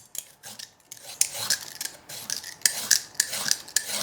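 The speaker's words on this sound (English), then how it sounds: "So we cut it in cubes." A kitchen knife cuts a daikon radish into cubes, giving a run of crisp, close chopping taps and slicing scrapes in an irregular rhythm, with no talk over them.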